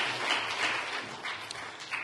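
A church congregation at a New Year special evening prayer service applauds its volunteers with a steady, diffuse wash of many hands clapping at moderate distance, without speech.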